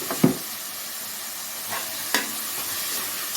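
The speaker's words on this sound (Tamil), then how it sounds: "ஒரு நிமிஷம் கீரை நல்லா வதங்கிடும்." Spinach greens dusted with a pinch of turmeric sautéing in a pan, a soft steady sizzle broken by a few sharp stirring scrapes and clatters.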